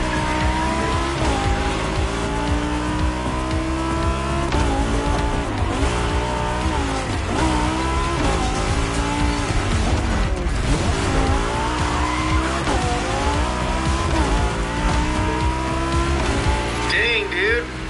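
Expensive cars racing in The Crew Motorfest, with loud revving engines, frequent tire squeals and skids over a steady roar, and a voice talking over the action.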